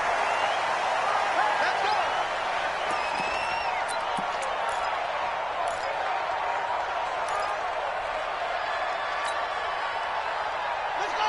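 Loud, dense stadium crowd roar from a Dallas Cowboys football video game on PS4, a steady deafening wash of cheering and noise that never lets up across the whole stretch.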